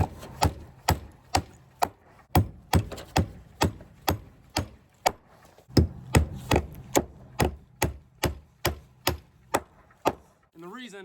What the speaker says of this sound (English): I'm gonna put a few more nails in.